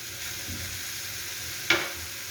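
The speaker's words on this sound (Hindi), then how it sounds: "कीमे का कलर चेंज हो गया और मैंने हल्का सा पका लिया कीमे को।" Minced meat (keema) cooks in a pan, a soft, even sizzle with one sharp utensil knock near the end and no voices.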